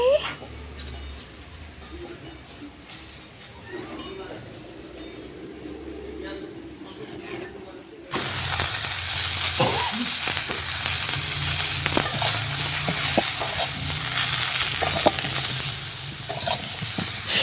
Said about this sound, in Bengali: তেল, পাঁচফোড়ন, কালো জিরে, কাঁচা লঙ্কা ফোড়ন দিয়ে ফুলকপিগুলো ভেজে নিচ্ছি